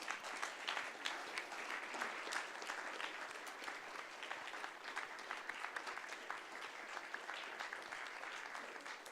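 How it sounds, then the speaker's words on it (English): Audience applause for the organizers at the close of the IFC Climate Business Forum, a steady, fairly quiet wash of many hands clapping that holds evenly from start to finish with no voices over it. "you guys deserve a great deal of round of applause"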